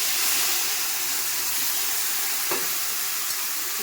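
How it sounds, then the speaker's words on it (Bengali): Tamarind pulp hits freshly fried snakehead fish in a hot pan and produces a steady, close, loud sizzling hiss with one brief sharper crackle. "এবার আমি যে তেঁতুলের মাড়িটা করে রেখেছিলাম এক বাটি, সেইটা এই মাছেতেই আমি দিয়ে দেবো।"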